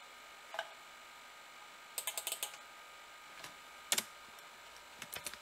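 Typing on a computer keyboard in a quiet room: sparse, faint clusters of light key clicks with pauses between short bursts.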